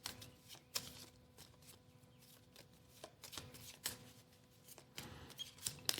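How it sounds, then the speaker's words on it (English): A deck of game cards being shuffled by hand, a series of quick riffling bursts and soft slaps recurring irregularly over several seconds, close and fairly quiet, with no speech. "So I'm going to shuffle these because I don't want to go in not shuffling them."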